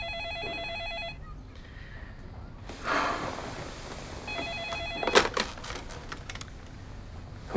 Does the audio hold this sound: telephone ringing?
yes